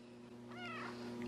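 A single short, soft cat meow rising and falling, heard close but quiet over a steady low background hum.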